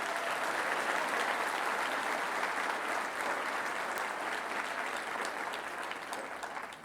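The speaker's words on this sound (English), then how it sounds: "let's give them a round of applause" An assembled audience of parents and guardians at a high school graduation applauds in a full, steady wash of clapping that holds its level before fading slightly at the close.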